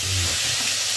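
Cumin seeds and spices for a chicken curry fry in hot oil in a pan, giving a short burst of steady close sizzling and hissing.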